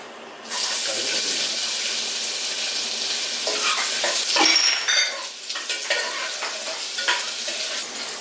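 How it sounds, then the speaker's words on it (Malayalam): Mustard seeds, cumin and ginger frying in hot oil for a rice cooker recipe, with a loud, steady sizzle that starts after a brief pause, plus scattered pops, crackles and light stirring clinks, with no voices. "കുറച്ച് കടുകൊന്ന് പൊട്ടിച്ചെടുക്കാം ജീരകം ഇടുന്നത് നല്ല ജീരകം"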